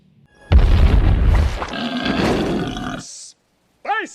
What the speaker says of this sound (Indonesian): seketika bom tersebut meledak di perut Ipkish.